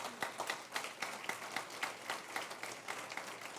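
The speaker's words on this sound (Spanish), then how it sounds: "denle un aplauso al Señor" Church congregation applauding during a sermon, quiet and somewhat distant, with distinct individual claps in a loose rhythm rather than a dense roar.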